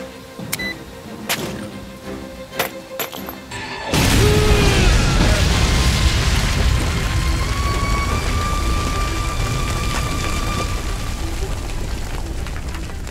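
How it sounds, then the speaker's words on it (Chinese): In a Japanese island death-game film, a bomb worn around a mercenary's neck goes off: quieter scattered sounds give way to a sudden loud blast, followed by a long, heavy roaring rumble of debris and fire. "雇佣兵被淹没在爆炸里"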